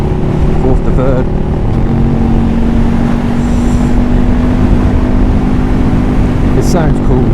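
A KTM Super Duke Gen2 motorcycle drops from fourth to third gear, its loud, close engine droning steadily with brief pitch shifts and blips as the gears change.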